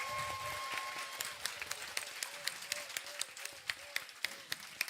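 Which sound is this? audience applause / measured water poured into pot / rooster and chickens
audience applause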